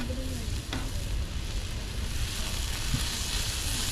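Onions and garlic fry on a griddle at a campsite, a dense, steady sizzle close by with a couple of light utensil scrapes and no speech.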